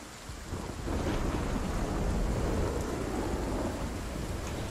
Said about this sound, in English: It says massive storms like these are tropical storms.